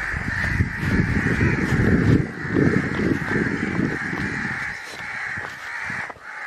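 A crow pheasant (coucal) gives repeated harsh, loud calls in a rapid run during a goshawk hunt outdoors, the cries close and continuous with a brief pause near the end.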